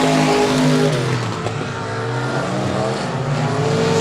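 Stock cars racing at Speedway of Texarkana, a loud, continuous roar of several engines at close range, with rising and falling revs as the pack drives back into turn one.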